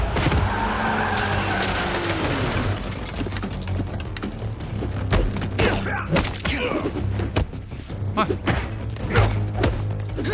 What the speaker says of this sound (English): I hear the cars.